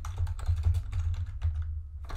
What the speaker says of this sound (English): So I will type in Python barbecue app and it will start to run.